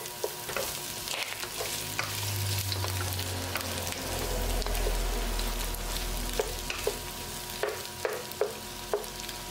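Garlic sizzles in a hot pan for pork afritada, a steady close frying hiss with repeated scrapes and taps of a spatula stirring, growing slightly louder midway, with no talking.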